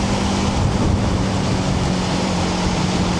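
Steady buffeting wind roar on a motorcycle ride in rain and strong gusting wind across open ground, loud and continuous with a low hum underneath, no talk.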